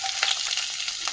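Chopped garlic hits a hot pan for a Ratlami sev tomato curry, giving a steady, close, bright frying sizzle with small crackling flare-ups throughout and no talking.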